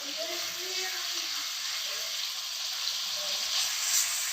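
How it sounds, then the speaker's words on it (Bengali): A pan of Bengali mustard hilsa (sorshe ilish) hisses with a steady, gentle sizzle while being lightly stirred, the sound even and moderately close, with faint background murmur but no clear speech. "আমি এবার আস্তে আস্তে হালকা করে একটু নাড়াচাড়া দিয়ে দেবো"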